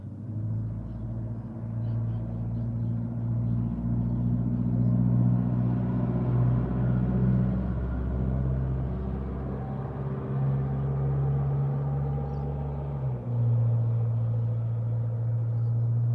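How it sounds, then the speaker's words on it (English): Steady road traffic rumbles nearby, a constant low, droning wash of passing cars with a deep hum that shifts pitch slightly near the end. No one speaks. "Some of the traffic's noisy around here."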